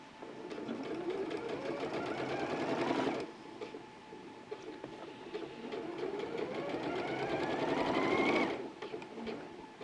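A sewing machine top stitches multicoloured fabric with green thread, running in two bursts that rise in pitch as they speed up, each lasting several seconds with a brief pause between, close and clear.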